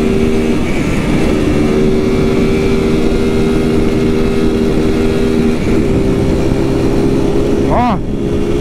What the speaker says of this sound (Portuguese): Esse escapamento deixou a moto mais forte,